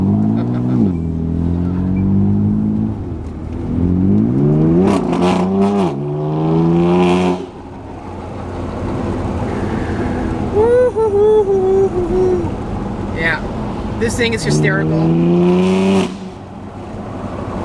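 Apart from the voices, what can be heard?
BMW M3 F81 Touring loud exhaust while driving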